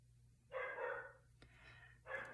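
A dog barks from behind a shut door in a quiet room, muffled bursts of barking in two or three bouts over a steady low hum.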